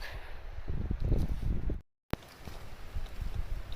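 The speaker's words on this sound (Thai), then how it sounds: "เสียงลมดังมาก" Strong wind blowing outdoors in a forest during mushroom foraging roars as a heavy, rumbling buffet against the microphone, cutting out briefly midway before gusting on again.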